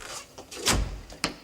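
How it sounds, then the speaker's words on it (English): An indoor door is pushed shut with a solid thump around the middle, followed by a smaller knock; a sitcom interior setting with no talk. "Shut the door."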